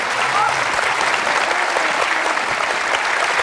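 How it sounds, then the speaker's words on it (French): Studio audience applauding on a French quiz show after a contestant wins 48,000 euros, a dense steady roar of clapping that fills the whole stretch at close range. "Et des applaudissements du public."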